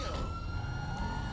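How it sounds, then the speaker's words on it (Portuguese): In-game police vehicle of the military police tactical force in GTA V, a siren-like tone wavering over a heavy low engine rumble, steady and fairly loud for the whole moment, with no talking. "Desliga as sirenes aí, deixa só o giroflex ligar"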